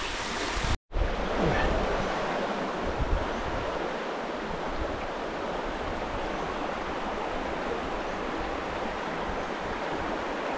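A mountain stream in the Carpathians rushes past in a loud, continuous wash of flowing water that stays close and even after a momentary dropout near the start.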